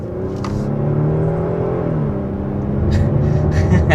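A 2022 Kia Stinger sport sedan carries steady engine rumble with a gear-change pitch shift and building revs along a curvy road, the whir of the cabin continuous and moderately loud throughout.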